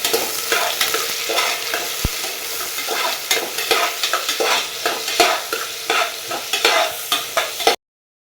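Onions and green chilies fry for biryani, a loud steady sizzle under frequent rhythmic spoon scrapes and taps against the pan, up close, then cutting off abruptly near the end.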